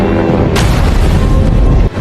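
Artillery fire supporting a German tank attack into Libya, a loud sustained booming rumble of explosions lasting about two seconds before cutting off abruptly.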